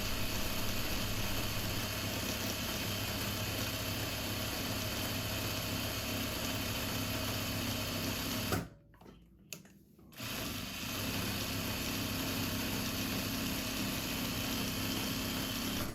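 Continuous close buzzing of a sewing machine running a stay stitch along a cardigan placket, with a short pause in the middle before the motor starts again.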